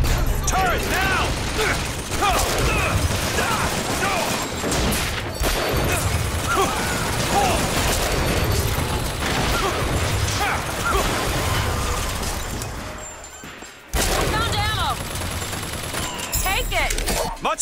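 Sustained, dense automatic fire from an automated turret in BioShock Infinite, a loud continuous clatter of shots with mechanical rattling that runs almost unbroken, dips briefly, then resumes.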